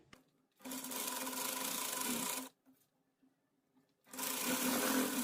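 A sewing machine stitches a folded half-inch hem on a frock sleeve in two fast, even bursts, with a short pause of quiet handling between them.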